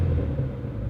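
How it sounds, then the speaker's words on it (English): A 2016 Ford Mustang GT350 V8 engine on its normal exhaust setting rumbles low and throaty at close range, a brief deep idle with a slight rise in revs, no voices. "I'm gonna get a little bit of a rev here."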